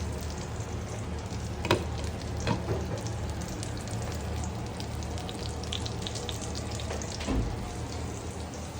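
Fish soup bubbles in a pot, a steady sizzling, churning simmer with a few sharper pops and clicks, close and continuous.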